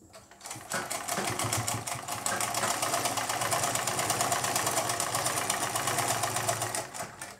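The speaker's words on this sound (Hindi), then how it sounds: "इसको यूँ फोल्ड करते हुए आपको सीधी सिलाई लगा देनी है ये वाली" A sewing machine runs a straight seam along a folded sleeve, its needle chattering in a fast, even, steady rhythm close by for several seconds before slowing to a stop.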